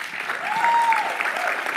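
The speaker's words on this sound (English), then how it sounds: "let's give another round of applause for Anna" Steady applause from an audience at an awards luncheon, a dense continuous patter of clapping that holds evenly for the whole stretch with no voices over it.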